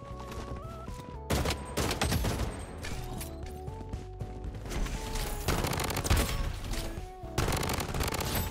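Rapid bursts of AR97 Moonrise assault rifle fire in the shooter game Bloodstrike, loud and close over a busy game soundtrack, with several sustained volleys broken by short pauses.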